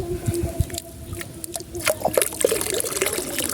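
Water holding thousands of mola fish fry is poured out, giving close trickling and splashing with small dribbles and bubbly gurgles over a low background hum.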